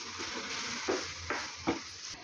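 Beetroot and mashed potato masala stirred in a pan on the stove for beetroot paratha filling, a steady soft sizzle with three distinct spoon scrapes against the pan.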